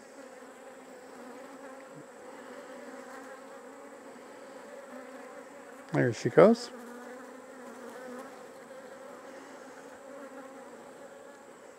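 Honey bees drone steadily around an open hive while a beekeeper combines a weak colony, the buzzing close and continuous, with a few sharp handling clatters midway and a brief spoken remark.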